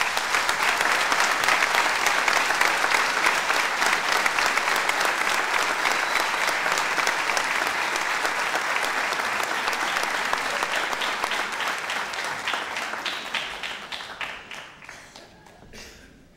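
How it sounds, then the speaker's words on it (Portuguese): Audience applause at a Bailinho da Vila Nova performance in 2024, a dense, steady wash of clapping from a full crowd that holds loud for most of the stretch before thinning and fading near the end. "Para eles, uma grande salva de palmas."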